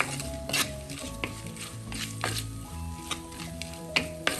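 Onion masala being stirred in a pan for a spicy sole fish curry, with soft sizzling under repeated scraping and clinking of a spoon against the pan, fairly quiet and close, no talking.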